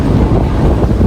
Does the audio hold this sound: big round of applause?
no